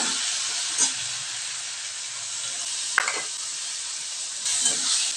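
Green chillies, dry chillies and ginger sizzle steadily in hot oil for paneer dalna, a continuous close frying hiss with a few soft stirring scrapes and clinks, no talking.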